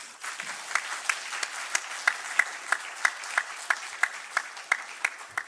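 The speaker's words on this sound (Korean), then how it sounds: "원로 목사님 나오실 때 큰 박수로 환영해 주시기를 바랍니다" A church congregation claps in welcome for the emeritus pastor, a steady wash of moderate applause with regular sharper claps punctuating it, heard alone without talk.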